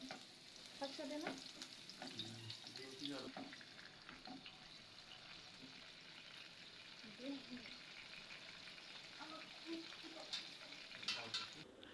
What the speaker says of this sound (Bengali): পেঁয়াজ আমি বাদামি রঙের করে ভেজে নেব